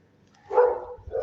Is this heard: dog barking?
yes